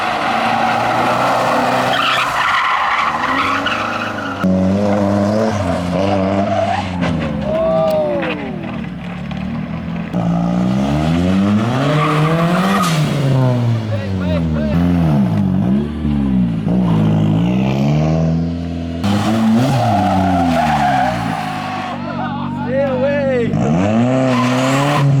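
A car drifting on a street squeals its tires in long wavering screeches while the engine revs and surges, loud and close, with repeated bursts of acceleration and brief pauses.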